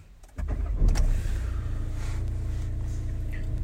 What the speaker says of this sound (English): So just turn the car on.